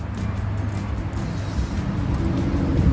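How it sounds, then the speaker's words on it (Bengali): Traffic on the Don Valley Highway overhead, heard from below on a fall nature hike, a low steady rumble of passing vehicles that swells slightly toward the end. "উপরে এটা হচ্ছে ডন ভ্যালি হাইওয়ে।"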